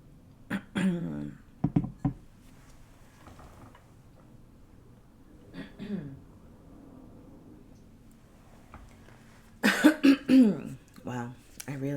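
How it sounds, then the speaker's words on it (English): A woman coughs and clears her throat in several short, sharp bursts in a quiet room, with long pauses between them. "I really need to clear my throat there."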